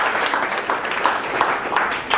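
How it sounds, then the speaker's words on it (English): Audience at a Creative Mornings talk in Palm Beach giving a round of applause, a brief burst of steady, close clapping from a crowd. "Give Alex a round of applause"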